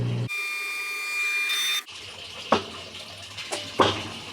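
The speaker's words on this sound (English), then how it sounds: "Now we're at the drain sequence." A Whirlpool-built washing machine drains water during its self-test diagnostic cycle, a steady pump hum and gurgle with a brief tonal whine, then quieter sloshing with a few sharp clunks near the end.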